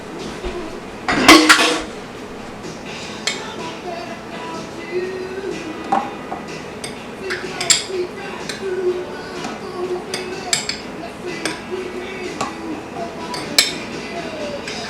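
A spoon clinks and taps against popsicle molds while piña colada popsicles are filled with cherries, a loud clatter at the start followed by scattered light clinks and knocks, with a voice speaking faintly at times.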